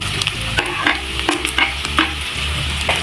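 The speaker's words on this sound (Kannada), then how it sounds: "ನಾನು ಇದಕ್ಕೆ ಫ್ರೈ ಮಾಡ್ಕೊಂಡಿರೋ ಪನ್ನೀರ್ನ ಆ್ಯಡ್ ಮಾಡ್ಕೊಳ್ತಾ ಇದ್ದೀನಿ" Fried paneer cubes are stirred into onions frying in a pan for paneer pepper fry, with a soft sizzle under regular scraping and clattering spoon strokes.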